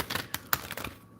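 Book of Thoth tarot cards being shuffled by hand make a brief run of crisp, close clicking riffles, quiet and uneven in rhythm.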